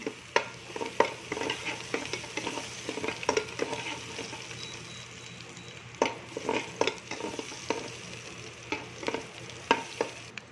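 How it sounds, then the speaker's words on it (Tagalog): Garlic sizzles in a hot pan while being stirred for pork dinuguan with turnip, a steady frying hiss broken by repeated scraping and clinking of a utensil against the pan, close by. "Hulog na po natin itong garlic."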